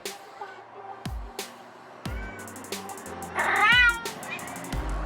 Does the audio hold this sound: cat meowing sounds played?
yes